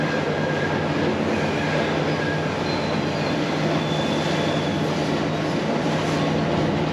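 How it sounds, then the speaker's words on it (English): A train rumbles steadily across a bridge near Little Adams Peak in Ella, Sri Lanka, a continuous loud roar of wheels and carriages with faint high squeals and no voices. "watch the train crossing the bridge"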